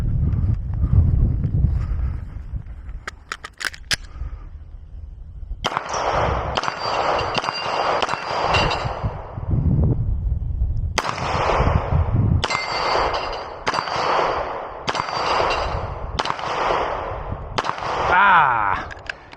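Rapid strings of Glock pistol shots ring out from an outdoor shooting session, sharp cracks in bursts with short pauses between groups, loud and close, with metallic clangs among them.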